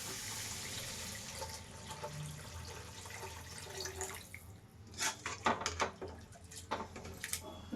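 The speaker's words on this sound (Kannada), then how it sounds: "ನೀರು ಹಾಕೋಬೇಕು." Water is poured into a pan while cooking upma (uppittu): a steady rushing pour for a few seconds, followed by a few close clinks and splashes of a utensil.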